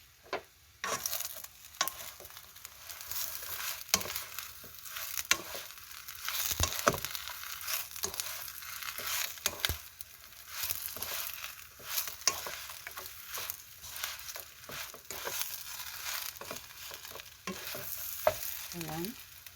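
Carrots being stir-fried in a pan for Korean fish cake, with steady sizzling and repeated scraping stirs running throughout, fairly close and without talk.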